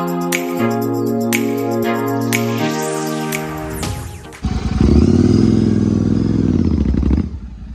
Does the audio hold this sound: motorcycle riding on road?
yes